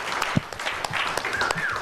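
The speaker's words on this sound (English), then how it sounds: "no one clapped louder than Tim Eunice" Applause from an audience at the close of a community meeting, a short burst of clapping with dense overlapping claps and a faint voice underneath.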